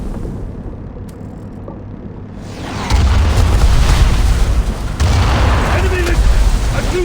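Torpedo detonating against a destroyer in a World War Two submarine attack, a heavy boom that swells into a loud, sustained rumbling roar after about three seconds, rolling on to the end over a quieter opening rumble.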